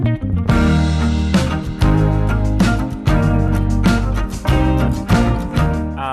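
Loud full-band music from a song by a cellist, with rhythmic chopped bowing strokes and sustained harmonic tones throughout, no talking.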